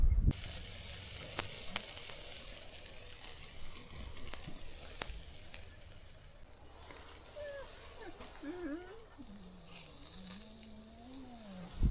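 Burgers fry outdoors at a lochside camp in Scotland, a steady close sizzle running throughout, with a few clicks and a voice-like tone wavering in the second half.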